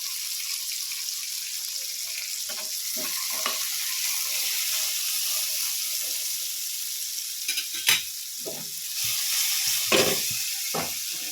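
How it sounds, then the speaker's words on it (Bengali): Chicken pieces and tomatoes roasting in ghee in a pan give a steady bright sizzle, with scattered scrapes and clatters of stirring building toward the end, no voices. "আমি একটু ঘিয়েতে রোস্ট করে নিচ্ছি বন্ধুরা"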